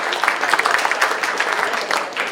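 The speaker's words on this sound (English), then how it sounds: "Let's hear a big round of applause for the band" Audience applause for the band at a Story County Democrats event, a dense burst of many people clapping, fairly loud and steady for a couple of seconds.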